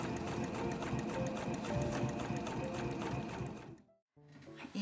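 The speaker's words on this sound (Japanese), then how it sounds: "そしたらぐるっと一周 5mm で仮止めします。" A home sewing machine runs steadily while basting a canvas tote bag's lining with a 5 mm seam, a close, continuous mechanical whir that stops abruptly just before the end and then briefly resumes.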